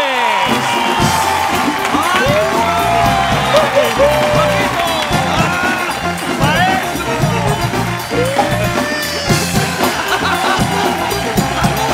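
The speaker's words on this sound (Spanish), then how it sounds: "Recibamos con un fuerte aplauso a Manuel Loco Valdés y el señor Alejandro Suárez." Studio audience at a Mexican late-night talk show applauding and cheering loudly for arriving comedian guests, a dense continuous roar of clapping and whoops with music and voices mixed in throughout.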